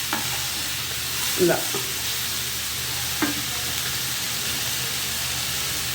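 Ginger garlic paste fries and is stirred in a pan for mutton keema, giving a steady sizzle with a couple of scraping spoon knocks and one brief spoken word.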